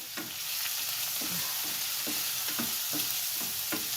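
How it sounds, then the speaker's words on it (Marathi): Onion, coriander stems and curry leaves frying in oil while being stirred, a constant sizzle broken by regular soft scrapes of the spoon, close and clear. "आणि छानपैकी मी आता ढवळत आहे."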